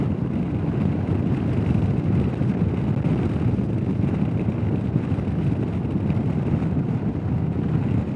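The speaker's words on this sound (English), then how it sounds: "Lots of wind." Strong wind roars constantly into the microphone on a Royal Enfield Himalayan motorbike ride along the Kielder Forest Drive. It is a loud, dense buffeting blast with the engine and road noise beneath it, and no voices.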